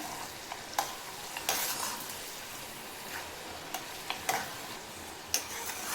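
Peanuts frying in hot oil for Diwali poha chevdo, a steady close sizzle with scattered sharp pops and stirring clicks throughout, no voices.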